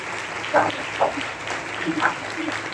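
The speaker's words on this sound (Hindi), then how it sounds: "हम जोरदार तालियां के अपने दरमियान फादर बर्नार्ड को खुशामदीद कहते हैं" Applause welcomes Father Bernard at a Mass for the Feast of Saint Anthony, a steady wash of clapping with a voice speaking over it.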